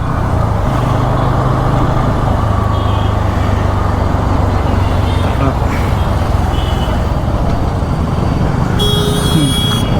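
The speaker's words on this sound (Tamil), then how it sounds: "ஸ்கூல் போகிற டைமாக ஃபுல்லாக டிராஃபிக்காக இருக்குது." Steady, dense school-hour road traffic rumbles throughout, with engines passing close by and a brief higher-pitched hiss near the end.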